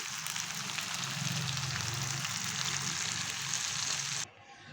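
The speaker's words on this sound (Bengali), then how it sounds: "একই রকম করে বাকি মাছগুলোকেও আমি ভেজে নিচ্ছি" Masala fish fries in a hot pan with a steady, dense sizzle that holds evenly near the mic, then drops off abruptly near the end.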